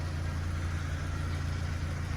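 A 2004 Audi A4 B6 with a 1.6 MPI petrol engine runs steadily at idle, a low even hum with a constant throb, recorded close and without speech.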